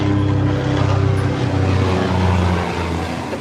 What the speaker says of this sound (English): The plane's flying really low overhead, or helicopter